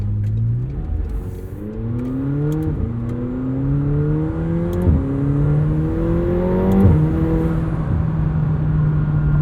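A 2021 McLaren 720S Coupe accelerates hard from inside the cabin, engine pitch climbing through several rising sweeps with brief drops at each gear change, loud and close with no talking.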